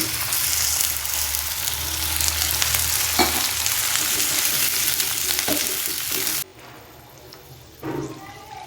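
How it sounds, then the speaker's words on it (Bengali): Water poured over vegetables sautéing for a rohu fish curry, a loud, steady frying hiss with stirring that drops off abruptly toward the end, followed by a brief quieter bubble. "এবার এর মধ্যে দিয়ে দিচ্ছি পরিমাণ মতো জল।"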